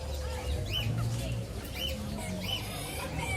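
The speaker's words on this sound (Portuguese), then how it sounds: "Casal de galinha preta aqui, ó." At a bustling bird market, a pair of black hens clucks and squawks in short repeated bursts amid crowd noise and other fowl, with a steady low background hum.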